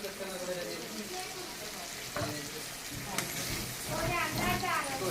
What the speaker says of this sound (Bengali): এখন মশলাটা ভাজা হয়ে গেছে